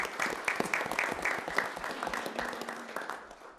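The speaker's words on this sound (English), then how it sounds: "join me in just thanking them in a quick round of applause for the wonderful donations." Quick round of applause from the audience at a city council meeting in Apache Junction, a steady patter of many hands that gradually thins out, no talking over it.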